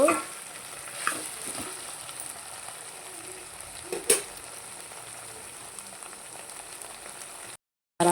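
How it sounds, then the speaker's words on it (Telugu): A Tamil-style curry of potato, okra and eggplant is stirred in a pan, steady frying sizzle running throughout with a few scraping knocks of the spoon, fairly close and without talk. "చూసుకొని కలబెట్టేసుకుందాం మనము"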